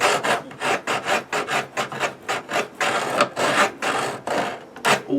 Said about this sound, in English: what I'm going to be doing is sort of locking this piece of timber off onto this left hand screw here and draw filing across